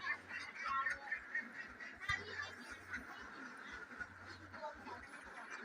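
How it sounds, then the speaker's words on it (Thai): Five-month-old young laying ducks quack repeatedly in a farm duck pen, a busy overlapping chorus of calls close by, with someone talking faintly in the background. "อันนี้ดูเป็ดสาวสวยๆนี่คือเป็ดสาวห้าเดือน"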